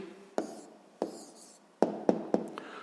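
A pen scratches out an answer in a school maths notebook, a few separate taps and strokes spaced over a quiet background, soft and close.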